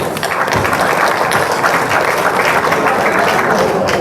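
An audience at a prize distribution ceremony in Bengal applauds steadily, a dense wash of many hands clapping at once, loud and sustained throughout without a break.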